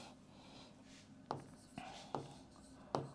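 Handwriting during an organic chemistry lesson, a few short scratchy pen strokes spaced about a second apart, quiet and close in an otherwise calm room.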